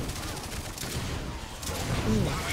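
Rapid gunfire crackles in the shooter game Lawbreakers, dense bursts under excited talking from a player.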